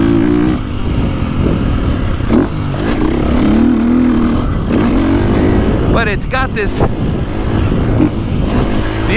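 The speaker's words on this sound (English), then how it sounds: "the engine's got a little more thumpy feel than the Honda, but it still makes power, especially when it revs up." A KTM 450 Factory Edition motocross bike's thumpy single-cylinder engine revs and builds power in a loud, continuous drone with rising and falling pitch, while someone talks over it.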